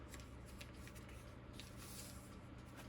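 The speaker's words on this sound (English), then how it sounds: "And then you fold it again at that edge." Newspaper being folded by hand into a small seed-starting pot: steady, soft paper rustling and crinkling with brief crisp creases, faint and close, with no voices.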